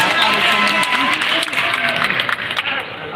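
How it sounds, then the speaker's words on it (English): Enthusiastic audience applause and cheering at a high school graduation fills the room, dense clapping continuing throughout with voices mixed in. "let's give your family a round of applause"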